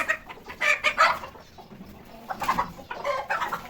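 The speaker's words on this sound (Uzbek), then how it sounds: "xo'rozlarimiz bor edi. Bir-biri bilan urushyapti mana." Roosters fighting close by, a flurry of sharp squawks and clucks in two short bursts with scuffling between them, no talking.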